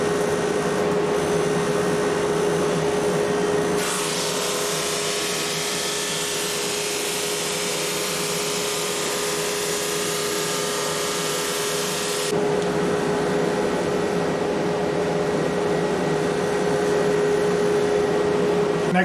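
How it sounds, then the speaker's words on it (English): Drum sander running with a steady motor hum and whine while sanding off a wooden piece for box making, a louder gritty grinding stretch in the middle as the wood feeds through, no talking. "Now I'll go to my drum sander, and I'll just sand off this piece over here."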